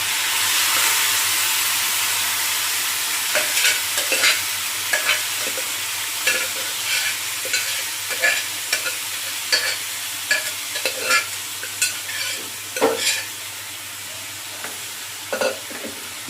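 Cooked lentils, green gram and field beans stirred into fried onions in a pan, with repeated scraping strokes of the spoon over a soft sizzle, rhythmic and close.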